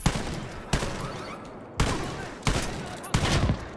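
Gunfire from the video game Wolfenstein Youngblood rings out in four or five sharp, loud bursts spaced roughly every second, each decaying into a rumbling tail.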